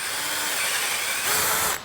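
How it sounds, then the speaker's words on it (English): A drill with a 1/8 inch bit whirs steadily into a broken exhaust stud on a Vespa GTV scooter, a continuous close high-pitched grinding that rises slightly near the end before cutting off. "you can see going just one size up, it will drill really easily because you already have an established hole"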